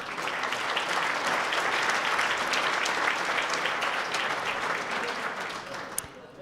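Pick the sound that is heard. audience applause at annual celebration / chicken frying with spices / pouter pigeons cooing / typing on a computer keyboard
audience applause at annual celebration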